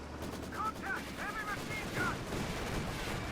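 Machine gun fire from a Maxim gun in the Company of Heroes 2 strategy game, bursts of rapid shots over a dense backdrop of battle noise.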